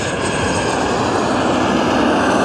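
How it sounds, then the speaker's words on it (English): Airplanes pass overhead with a loud, steady, broad engine roar that holds constant throughout, with no voices. "Planes going over at the moment."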